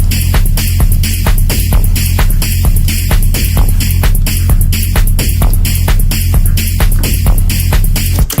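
Hard techno track with a delay effect in Logic Pro X: a loud, driving four-on-the-floor kick pulses evenly with bright hi-hat ticks and a humming low bass, steady and dense throughout with no talking.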